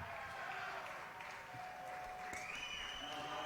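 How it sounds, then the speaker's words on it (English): A baseball crowd gives a distant, fairly faint round of applause that holds steady for a few seconds after a go-ahead RBI single. "A nice hand."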